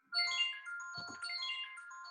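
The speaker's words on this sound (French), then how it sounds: "Non, c'est pas moi qui ai sonné, c'est pas mon téléphone." A phone ringtone plays a bright electronic melody for about two seconds in a quiet indoor space during a closing event, with no voices over it.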